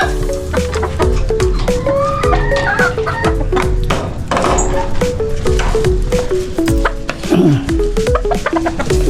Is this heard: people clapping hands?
no